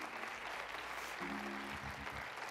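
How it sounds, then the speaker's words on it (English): Church congregation applauding during a Good Friday service announcement, a steady wash of clapping that fills the space, with a low organ or keyboard tone entering partway through. "Yeah, you can clap for that."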